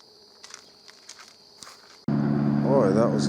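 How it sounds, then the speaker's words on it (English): Quiet outdoor ambience in Tate's Hell, Apalachicola National Forest, with faint scuffs, then a loud truck suddenly roars close by, its heavy engine rumble drowning everything else. "Boy, that was a loud truck."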